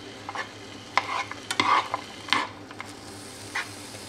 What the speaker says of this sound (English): you're also going to fry your bacon and onions